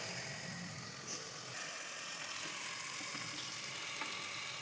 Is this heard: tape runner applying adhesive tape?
no